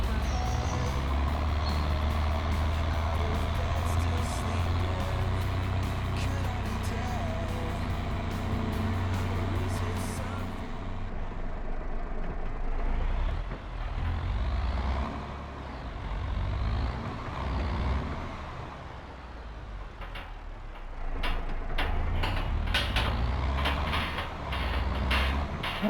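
Ford truck engine in Farming Simulator 22, a steady loud rumbling drone with creaks, air-brake hiss and reverse beeps layered in, continuing for the whole stretch with no talking.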